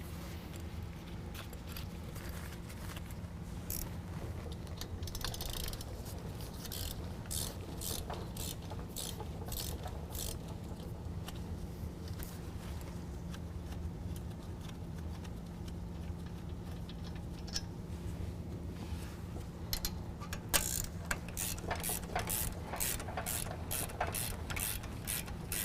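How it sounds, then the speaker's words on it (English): Ratchet backing out two 16mm caliper bolts on a 2017 Ford F-250 brake job, rapid, faint clicking bursts repeating in short runs over a low background hum, with no talking. "remove the two 16mm bolts that's holding on our caliper to our caliper bracket"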